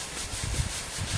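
A brush scrubs an old wooden bench during a degreaser test, making a rough rubbing, scraping sound in uneven strokes, moderately close, with no voices.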